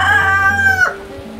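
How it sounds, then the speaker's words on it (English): A rooster crows once, loud and close, a single drawn-out harsh cock-a-doodle-doo that rises, holds and then drops off sharply at the end. "But roosters typically crow just before or at the crack of dawn."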